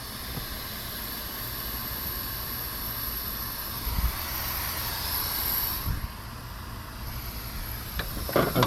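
Refrigerant hisses steadily from a leak in the AC system of a Toyota MK3 Supra, a loud, continuous broadband rush that holds throughout, with a few faint knocks near the end.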